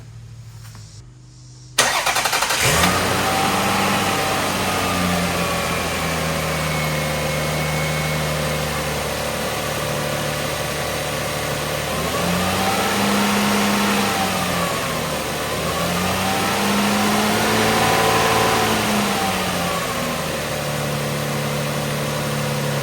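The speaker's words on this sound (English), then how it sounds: "let's crank it up so you can hear how well she's running." A Toyota 1MZ V6 car engine starts with a sudden catch, then idles smoothly before revving up and down in two or three rising and falling swells, steady and close.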